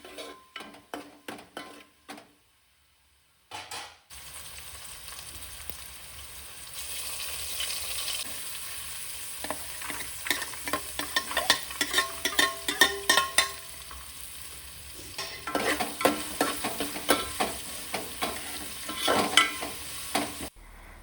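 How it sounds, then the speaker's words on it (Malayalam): Onions and ginger sauté in a hot pan, sizzling steadily while a utensil stirs and scrapes with repeated clinks. A brief silence comes early, then the frying and stirring run on without talk. "ഞാൻ സവോള ഇട്ട് കൊടുത്തു ഞാൻ അതൊന്ന് വഴറ്റി കൊടുക്കട്ടെ"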